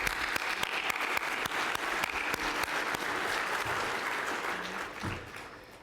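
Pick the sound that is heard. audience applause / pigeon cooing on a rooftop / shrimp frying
audience applause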